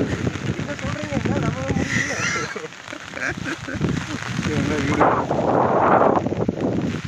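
Floodwater rushes through a village in N. Vellalapalayam after a heavy downpour, a loud broad roar that swells toward the end, while several people talk over it close by.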